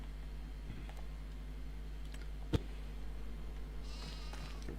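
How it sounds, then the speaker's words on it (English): Sheep bleat faintly in Farming Simulator 25 on a Montana farm map, with a single sharp click midway and a brief, thin bleating toward the end over steady game ambience. "Start with the sheep."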